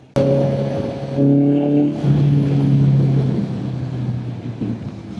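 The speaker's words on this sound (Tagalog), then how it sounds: "Kasi, ang bibilis na ng mga sasakyan dito." Fast vehicles rush past on a C5 expressway, a loud steady engine and road roar with rising and falling pass-by swells, heard close and continuous with no talk.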